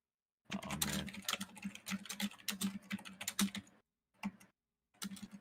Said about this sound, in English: is he typing again?